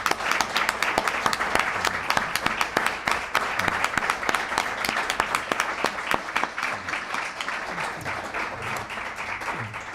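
Sustained applause from a conference audience thanking a panel on spiritual diversity and psychotherapy: dense, steady clapping throughout that eases slightly toward the end, with no talking over it.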